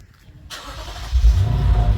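A Lexus IS 500 V8 engine cranks on a cold start and fires up, settling into a deep, rumbling idle that grows louder and stays steady, close by.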